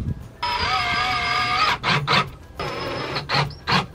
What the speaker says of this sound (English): my plan is to sink these screws in pretty far for these horizontal studs